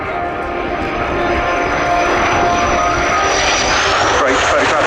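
A military jet flies over at the Fairford airshow, a loud, steady roar with a high whine that rises toward the end, heard close and continuous.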